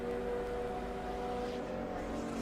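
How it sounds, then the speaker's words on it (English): A drag racing car with a two-speed glide gearbox roars at a distance, a steady loud engine drone holding one note throughout. "you heard the engine note change"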